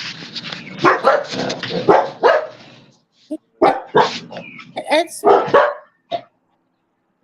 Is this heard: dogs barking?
yes